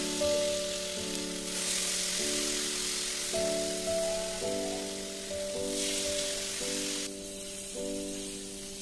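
Bread slices for dahi toast, dipped in a yogurt mixture and set in butter on a hot tawa griddle. A steady, soft sizzle of frying goes on for the whole stretch, with a sustained musical tone sounding over it.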